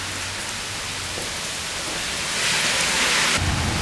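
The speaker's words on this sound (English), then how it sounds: "I might just stay here for a few minutes and see if this rain slacks off a bit" Steady rain falls hard and continuously, a dense close hiss that grows heavier partway through, with no voices.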